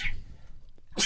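A single sharp human sneeze bursts out close by, breathy and brief, with a faint noisy lead-in and a short pause before it.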